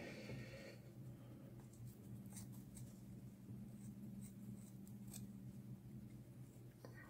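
Leatherman ARC multitool scissors cut through a thick old blanket, giving a series of crisp, crunchy snips in a quiet room, close and fairly faint.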